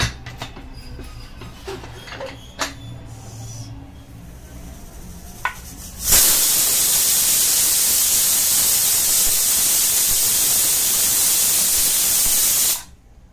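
A pressure cooker holding prawn rice vents steam in a loud, steady, broadband hiss that lasts about seven seconds, following quieter kitchen clinks and handling noises.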